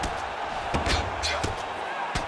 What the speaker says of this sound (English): Landing strikes here from the bottom.